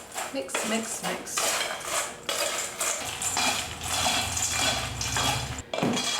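Chex Mix coated in cannabis butter made with coconut oil is tossed and stirred in a bowl, giving a continuous close clatter of dry pieces and utensil scraping against the dish.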